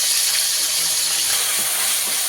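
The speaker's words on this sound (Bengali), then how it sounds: "পেঁয়াজটাকে ভালো করে একটু ভেজে নেব" Onion paste frying in a pan for a taro and lota fish dish, a loud continuous hissing sizzle throughout with no talk.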